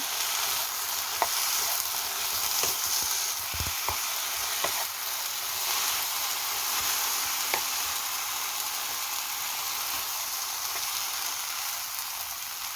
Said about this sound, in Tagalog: Nagtutubig ng konti yung eggplant. Wait lang, haluin natin mabuti.